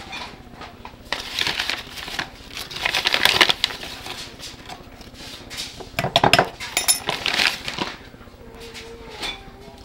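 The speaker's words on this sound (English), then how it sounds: "I want to add a tablespoon of flour" A metal spoon clinks and scrapes against a container while a tablespoon of flour is measured out for a butter and brown sugar mixture. The taps come in bursts, close and fairly loud, with a faint background hum and no talking.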